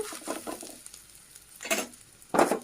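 An egg frying in a pan for rice, heard as a faint sizzle with a few short bursts of stirring and scraping, growing louder toward the end.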